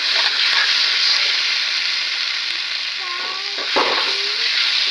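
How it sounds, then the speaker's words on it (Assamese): Ginger garlic paste fries in oil in a pan with a steady sizzle, with a few faint clinks of a utensil stirring near the end. "আদা নহৰুখিনি সিজালৈকে এনেদৰে ভাজি ল'ম"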